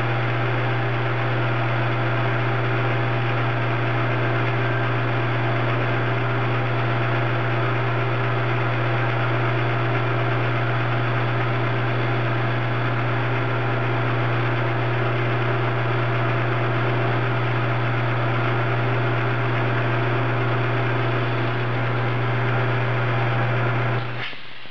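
A metal lathe turns a muzzle brake at 500 RPM, giving a loud, unbroken machine drone with a strong low hum that holds steady for the whole stretch and cuts off right at the end.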